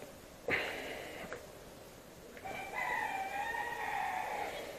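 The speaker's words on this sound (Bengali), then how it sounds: "এখানে মুরগি ডাকছে" Chickens sounding nearby, with a sharp call followed by a drawn-out, wavering rooster crow rising above a quiet rural background.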